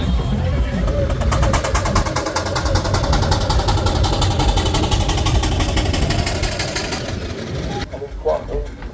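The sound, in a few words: McLaren steam engine running at a rally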